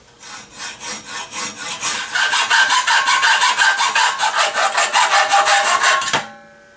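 A hand saw cuts through wood in steady back-and-forth strokes that quicken and grow louder, ending abruptly as the cut finishes.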